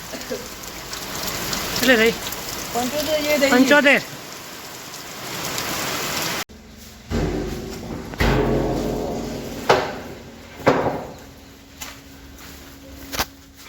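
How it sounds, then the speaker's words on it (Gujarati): Rain falling during a monsoon shower, a steady hiss of drops on surfaces with scattered sharper spatters and thumps, fairly close, with some talk and rustling over it. "વરસાદ ચાલુ થઈ ગયો હશે"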